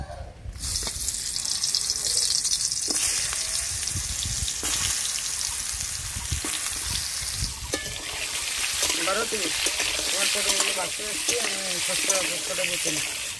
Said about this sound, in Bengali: কড়াই গরম হয়ে গেছে, এবার পটলগুলো দিয়ে দেব।